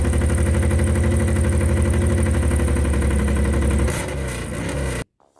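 A Big Bang V2 motorcycle engine, configured like a Harley XR 750 flat tracker, runs with a loud, close, steady throbbing pulse, then drops to a rougher lower rhythm before cutting off abruptly.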